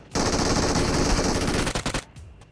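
PUBG Mobile automatic gunfire: a loud, dense burst of rapid shots lasts nearly two seconds, then breaks into a few separate trailing shots.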